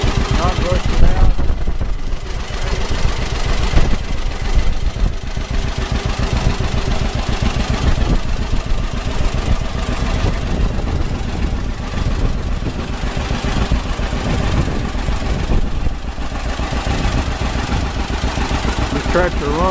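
A John Deere 620 tractor engine running steadily, a loud, close, continuous mid-pitched throb with a regular pulsing beat and no pauses.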